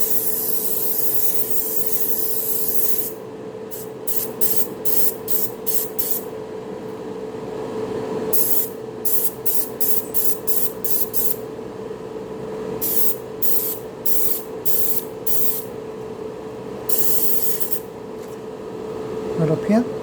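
An airbrush spray gun weathering the roof of a Moebius International Prostar model truck gives repeated short bursts of hissing spray, each lasting a second or so, close up over a steady background hum.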